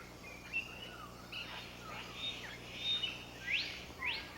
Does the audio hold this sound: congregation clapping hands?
no